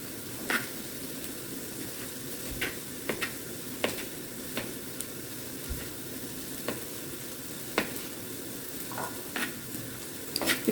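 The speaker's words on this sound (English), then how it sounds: "let me give these noodles a quick stir again to keep them sticking to the bottom" Egg noodles stirred in a pan for turkey stroganoff, with a steady low sizzle running throughout and sharp scraping clicks of the utensil against the pan at irregular intervals.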